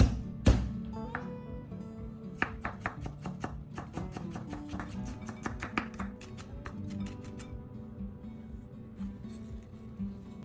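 A knife chops shallot finely on a board in quick, crisp taps. The cutting comes in bursts with short pauses, close and fairly quiet, over soft background music.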